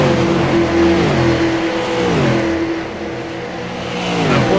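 Race cars in an ISDC Grand National Series event roar around an oval racetrack, engines droning loudly with pitch rising and falling as they pass close by, no talk over them.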